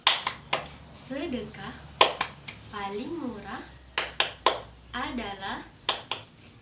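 A grade 6 class at an Islamic primary school performs a rhythmic clapping chant: sharp, crisp claps land in short groups between phrases sung by the teacher's voice.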